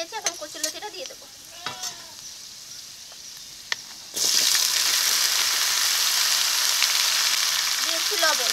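Taro stolons tipped into hot oil with fried garlic, bursting into a loud, steady sizzle about halfway through after a quieter stretch with a voice.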